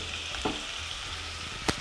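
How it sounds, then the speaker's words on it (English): Steady sizzling of garlic in a frying pan, a continuous crackle with two brief louder pops from stirring, close and fairly quiet. "The sizzle, sizzle, sizzle, baby, sizzle."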